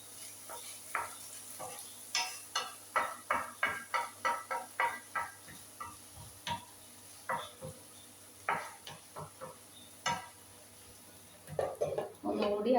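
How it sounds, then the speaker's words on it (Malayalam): Potatoes stirred in a frying pan at a home stove, a spatula scraping and knocking in a long series of close, irregular strokes over a steady sizzle of frying. "ഉരുളക്കിഴങ്ങ് ഇടയ്ക്കൊന്ന് ഇളക്കി നോക്കിയാണ്"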